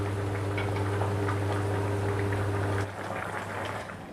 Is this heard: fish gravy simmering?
yes